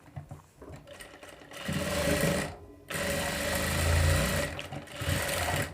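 A sewing machine stitches a boat neck blouse, running in loud bursts with a brief pause between runs and a softer start.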